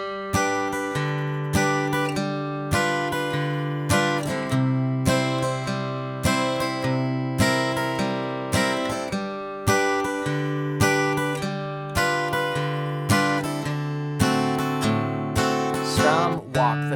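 Country guitar plays a song, alternating a bass line on the fifth string with steady strummed chords, walking the bass up between them in a bouncy, even rhythm played solo.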